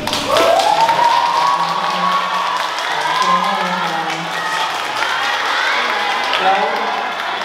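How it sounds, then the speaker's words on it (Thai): An audience at a birthday show claps loudly and steadily for a performer, with crowd noise around it and a voice talking over the applause throughout. "ต้องขอปรบมือให้เขาจริง"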